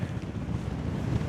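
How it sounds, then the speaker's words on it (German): Strong wind buffets the microphone during a paragliding flight over the Bavarian Forest, a loud, continuous low roar with no pause. "Ist das ein starker Wind."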